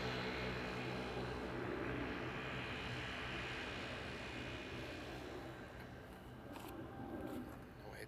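An airliner rolls down the runway at Amsterdam Airport, a faint, distant engine roar with broad rushing noise that holds steady and slowly fades slightly.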